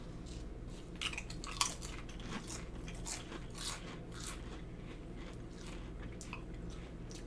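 Someone crunching regular potato chips, close and quiet: repeated crisp bites and chews in an irregular rhythm, with sharper cracks between softer mastication.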